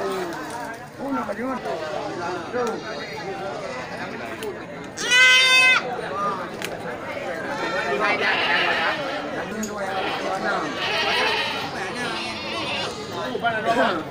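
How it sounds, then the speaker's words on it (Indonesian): An Etawa crossbreed goat lets out a sharp bleat at a livestock market, rising above a steady crowd of people talking and chattering nearby. "ini kambing peranakan Itawa"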